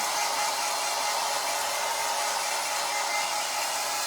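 A hair dryer blows in a steady, loud, continuous roar, held back a little while drying a craft pumpkin grapevine wreath, with no talking.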